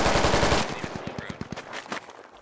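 A heavy machine gun in the game Squad fires a rapid, steady burst of loud thudding shots, up close and punchy at first, then the rounds thin out into scattered, fading reports.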